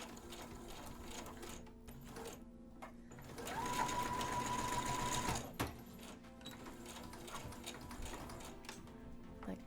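Sewing machine stitching a 5/8-inch waistband sample, a steady mechanical whir that swells louder for a couple of seconds midway, then drops back to a quieter running hum.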